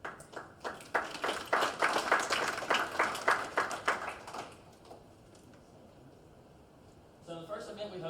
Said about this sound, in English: I really would like to give them a big round of applause.